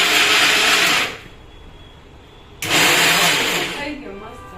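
A kitchen mixer grinder runs loud in two bursts of whirring motor noise, with a quiet gap between them where talk continues at a lower level.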